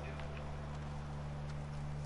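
A horse in The Last of Us walks with soft, steady clip-clopping hooves that sit faintly over a loud, low engine-like hum, with a voice murmuring in the background.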